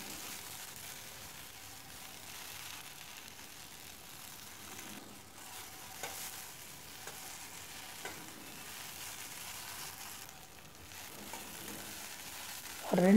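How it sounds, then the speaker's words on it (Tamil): Okra sautéing in two spoons of oil in a pan for sambar, a soft continuous sizzle with occasional stirring scrapes, fairly quiet and steady throughout without speech. "ஒரு கடாயில் ஒரு 2 ஸ்பூன் எண்ணெய் விட்டு அது கொஞ்சம் அந்த வளவளப்பு தன்மை போகிற அளவுக்கு நல்லா வதக்கி எடுத்து வச்சுக்கலாம்"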